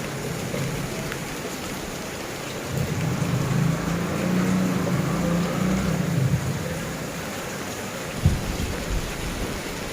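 Steady, dense hiss of heavy rain pouring down, with a low rumble swelling in the middle and a brief thud near the end.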